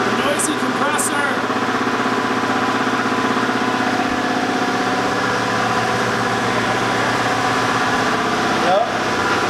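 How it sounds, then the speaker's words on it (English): A noisy compressor drones steadily and loudly through the whole stretch, a continuous mechanical hum under occasional voices nearby. "Noisy compressor!"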